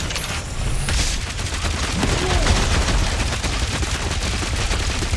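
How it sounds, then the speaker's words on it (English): Sustained cover gunfire in the video game Guardians of the Galaxy, a dense continuous barrage of rapid shots with booming impacts, loud and close throughout, no talking. "I'll lay down some cover fire to get you across!"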